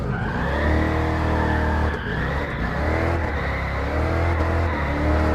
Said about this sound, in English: Alright, let's see about some donuts now.